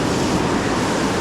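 Ocean waves breaking at a beach during surf fishing, a continuous loud broadband wash of surf and wind with no pauses, filling the whole moment.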